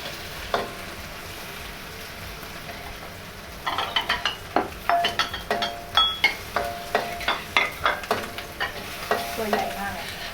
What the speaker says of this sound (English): So we're just gonna cook and make sure the shrimp is cooked on both sides.